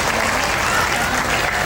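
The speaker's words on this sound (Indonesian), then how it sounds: "Tepuk tangan untuk anak-anakku semuanya." Audience applause for children at a hafidz and hafidhah induction ceremony in Lamongan, Indonesia: dense, steady clapping from a large crowd that fills the room, loud and continuous with no talk over it.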